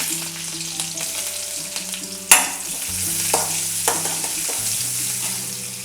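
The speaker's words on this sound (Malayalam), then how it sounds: "അരിഞ്ഞു വെച്ചിരിക്കുന്ന ഉള്ളി ഇട്ട് കൊടുക്കാം" Chopped onions sizzle steadily in hot oil after mustard seeds for a Kerala pumpkin and yam erissery. A utensil scrapes and stirs throughout, with one louder clatter midway. The sound is close and continuous, with no talking.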